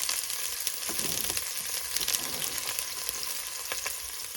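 Onions, garlic and shallots sauté in olive oil in a pan with a continuous, close crackling sizzle broken by light stirring taps, and no voices.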